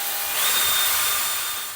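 A power drill spins a stirring paddle through a Merlot wine kit, giving a close, loud, steady high-pitched whir that swells briefly and holds for under two seconds.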